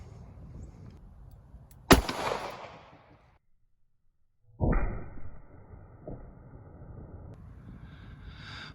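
A .38 Special snub-nose revolver fires a 130-grain HST load into ballistics gel outdoors: one sharp, loud report that rings briefly and fades, followed by quiet and then a softer rumbling movement.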